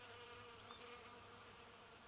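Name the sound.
bees buzzing, tabletop game ambience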